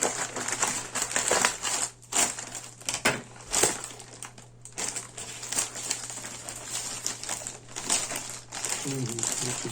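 A plastic parcel bag from a postal delivery being carefully opened and crinkled close up, with dense crackling rustles throughout and a low steady hum underneath.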